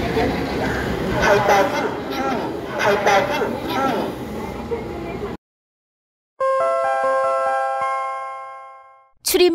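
Seoul Metro Line 2 subway car, shown running to Shinagawa, sounds a bright door-closing chime of several clear bell-like tones after a stretch of chatter and announcements, followed by a brief silence and another short tone at the end.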